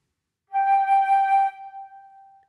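A single clear, steady pure-toned note from a flute head joint played alone with a finger inserted to the first knuckle, held for about a second before fading out softly.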